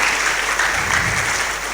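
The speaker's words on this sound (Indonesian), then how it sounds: "Beri tepuk tangan Bapak Ibu." A church congregation claps together in brief, dense applause that stays steady and fairly loud for under two seconds.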